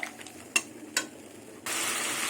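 Katla fish head curry with jackfruit is stir-fried with added water, bringing a couple of sharp spatula knocks against the pan, then a sudden steady sizzling hiss that continues to the end.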